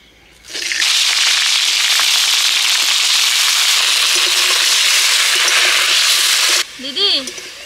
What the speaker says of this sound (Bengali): ডিম ভাজা তেলের মধ্যে আমি ফুলকপিটা ভেজে নিচ্ছি।